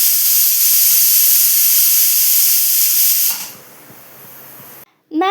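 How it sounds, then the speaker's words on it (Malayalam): A pressure cooker cooking green peas curry lets out a loud, sustained hissing steam whistle for about three seconds, then cuts off to a quiet simmer. "ഈ കുക്കർ കുക്കൂ കുക്കൂ എന്നിങ്ങനെ വിളിക്കുന്നുണ്ട് കേട്ടോ"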